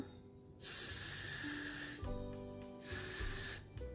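Two sustained hairspray sprays, the first long and steady, the second shorter, hissing loudly up close with a brief gap between them.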